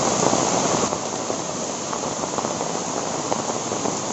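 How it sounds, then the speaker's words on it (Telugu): Heavy rain pours down steadily near Dharamatham waterfalls in Vizag, a dense, loud hiss of drops hitting surfaces with no voices. "వర్షం అయితే అసలు చాలా హెవీగా అయితే పడుతుంది ఫ్రెండ్స్ ఇక్కడ వర్షం."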